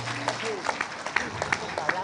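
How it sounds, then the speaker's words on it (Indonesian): Audience at an outdoor religious gathering with a sermon gives a short burst of clapping, fairly faint and distant, with scattered claps and some crowd voices mixed in over two seconds. "Tepuk tangan dulu untuk kitab kuning."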